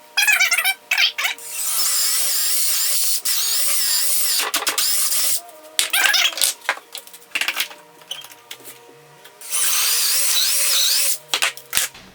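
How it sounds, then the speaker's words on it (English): A power drill bores through the wood of a cornhole board in a workshop, with several loud sustained bursts of whining drilling broken by short pauses and quieter handling sounds in between. "And now we can drill right on through."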